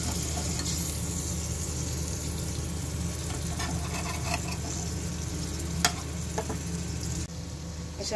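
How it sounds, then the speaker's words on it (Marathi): Paneer cubes fry in a second pan for a methi matar paneer dish, giving a steady close sizzle with occasional scrapes of stirring and a few sharp clinks throughout. "आता आपण दुसऱ्या पॅनमध्ये पनीर भाजून घेऊया"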